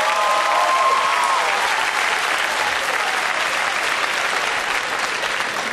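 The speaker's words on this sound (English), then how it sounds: "Bill Bellamy, give him a round of applause." A comedy club audience gives stand-up comedian Bill Bellamy a sustained round of applause, dense clapping from a large crowd that holds steady and loud throughout with no voices standing out.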